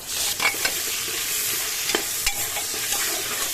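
Onion, bay leaf, sugar and spices frying in a hot pan for a mutton dish, a loud continuous sizzle broken by a few stirring scrapes and clinks.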